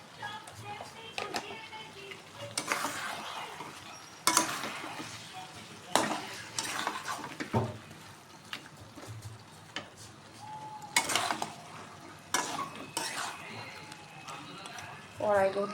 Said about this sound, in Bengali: এবার আবার কষবো ভালোভাবে